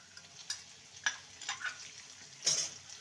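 Ground spice paste is stirred into potatoes fried until red for a bitter gourd dish, making a faint sizzle under a few scattered scraping and clinking strokes of a spoon against the pan, with no voices.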